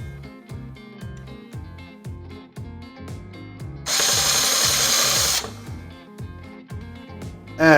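A small power screwdriver tightens a part on an Ecto-1 model car kit, with a rhythmic ratcheting clutch pulse and then a louder, steady whir near the end.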